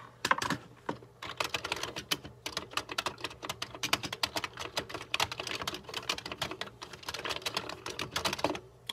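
Fingers type steadily on the keys of a Commodore 64 keyboard, producing a continuous run of crisp, moderately quiet clacks with brief pauses.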